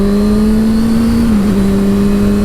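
A 2007 motorcycle engine holds a steady, loud tone that dips briefly and recovers, heard up close on a first ride on an older bike with twelve-year-old original tires.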